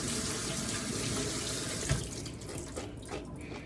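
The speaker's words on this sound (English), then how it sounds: "I rinse that out." Tap water runs steadily into a sink while beans are rinsed, a close continuous rushing stream with a brief splash partway through and no talk.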